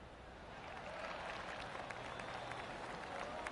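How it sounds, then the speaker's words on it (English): Polite, light applause from a small crowd at a golf course in a golf video game, a soft patter of clapping that stays even and subdued throughout. "Oh, golf clap."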